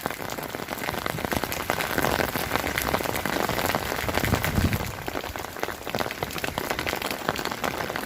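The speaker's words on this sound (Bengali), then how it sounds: "আদ্রিতার জীবনের প্রথম বৃষ্টিতে ভেজা।" Heavy rain pours steadily outdoors during a windy downpour, a dense, continuous close-up hiss and patter of drops that holds for the whole stretch with no voices.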